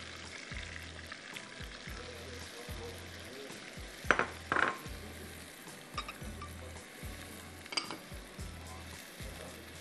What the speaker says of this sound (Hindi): प्याज को थोड़ा सा गोल्डन करूँगी